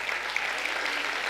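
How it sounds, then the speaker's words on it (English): A brief, dense burst of steady audience applause rises from the crowd at a science communication competition final, even and continuous throughout. "A big round of applause for yourself"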